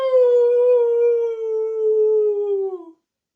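A dog howls in one long, loud, steady note that slowly falls in pitch and trails off after about three seconds, heard alone with no talk.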